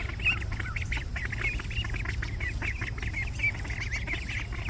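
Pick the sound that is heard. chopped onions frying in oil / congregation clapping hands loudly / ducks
ducks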